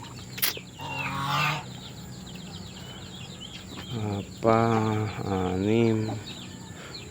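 Turkeys on a farm flock clucking and calling in short bursts, with a few vocal phrases standing out clearly over a steady background, while a person talks briefly nearby.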